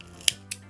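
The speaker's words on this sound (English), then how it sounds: "And then we can cut our yarn" Scissors snip through crochet yarn: two quick, crisp, close cuts about a quarter second apart in a quiet room.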